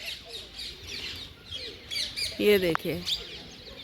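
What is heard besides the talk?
many parrots and pigeons calling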